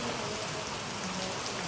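Steady rain falls on an outdoor surface, an even, dense patter of drops that fills the whole moment with no voices over it.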